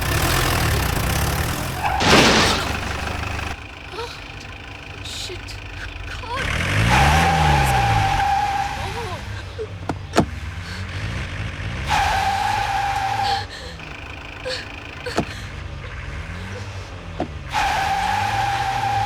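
A car reverses in a hurry on a blocked forest road, its engine revving loudly in repeated bursts with tyre skids, amid a tense scene with a brief spoken exclamation.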